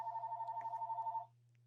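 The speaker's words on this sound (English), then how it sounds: "that's our phone in the background ringing." A telephone rings in the background, a steady electronic trilling tone that stops after about a second, leaving a low constant hum beneath.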